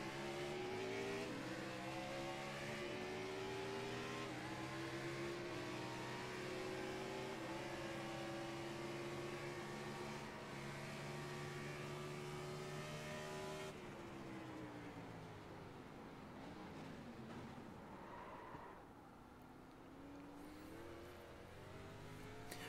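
A NASCAR stock car in a racing video game on a Long Beach street circuit, its engine note rising and falling through throttle and downshifts, a continuous close revving drone with no talking.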